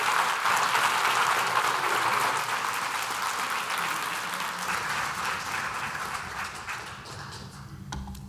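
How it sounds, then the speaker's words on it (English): Crowd at a State of the Schools address applauds graduating students, a dense, sustained wash of clapping that slowly thins toward the end. "that deserves a round of applause for those students."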